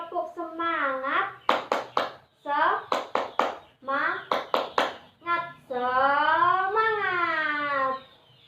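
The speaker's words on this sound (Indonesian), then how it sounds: "Sekarang kita tepuk semangat terlebih dahulu ya." A class of young children chanting and clapping in unison in a rhythmic spirit clap, with bursts of quick claps between sung-out chanted words, ending in a long drawn-out shout; close and lively.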